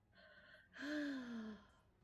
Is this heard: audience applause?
no